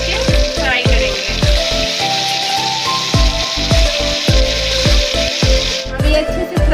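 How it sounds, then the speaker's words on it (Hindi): Taro (arbi) leaves frying in hot oil, turned over to the other side, with a steady loud sizzle broken by repeated sharp clatters and taps of a utensil against the pan. "ये एक साइड से हो चुका है, इसे हम दूसरी साइड से पलट के फ्राई करेंगे।"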